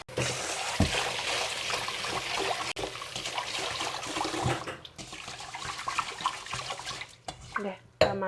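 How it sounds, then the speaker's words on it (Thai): White glutinous rice being washed by hand in a bowl of water, with steady sloshing, trickling and stirring sounds that continue up close, broken by a few sharp knocks and pauses. "ล้างประมาณ2 น้ำจนน้ำมันใสพุ่นละ"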